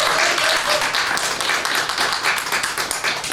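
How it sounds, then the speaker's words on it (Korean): Congregation applauding during a church Christmas service, a dense, steady patter of many hands clapping at fairly close range throughout, with no voices standing out. "박수 한번 보여주세요."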